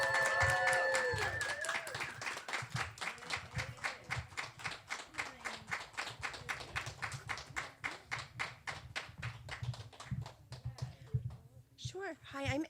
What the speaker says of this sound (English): Without further ado, a round of applause for Aiden.